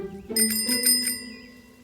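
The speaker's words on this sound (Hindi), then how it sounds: "साइकिल लेंगे मेरे पापा, घंटी भी लगाऊंगी, ये ऐसी" A bicycle bell rings in a quick burst of several bright metallic dings, close and clear, then fades, with a low hum underneath.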